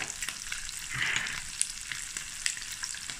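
Spices and a pinch of salt are tossed into a frying pan while preparing a spicy Vienna sausage and egg smoortjie, giving a steady close sizzle with a brief surge of crackling as they land.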